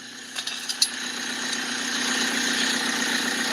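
A car engine with a cracked block idles steadily at a medium pitch, a low constant rumble with a few brief clicks near the start.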